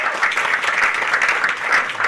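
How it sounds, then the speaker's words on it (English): An audience at a college forum on homelessness in Broward County claps for a panel of three, a dense, steady wash of applause at moderate loudness with no break. "So a round of applause for all three of our panelists."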